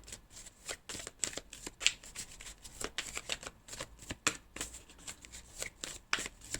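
Tarot cards being shuffled and flipped over in quick irregular riffles and snaps, close and fairly quiet, with no voice over them.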